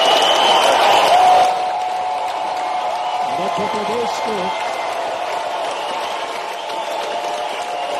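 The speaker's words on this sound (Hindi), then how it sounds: "जोरदार तालियां बजाएं" A ceremony crowd applauds the launch of a sports campaign at a Fit India club opening in Gautam Nagar, Bhopal. Loud clapping fills the opening second and a half, then fades under a voice speaking over a PA with a low murmur.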